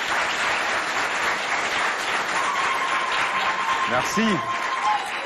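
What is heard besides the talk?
audience applause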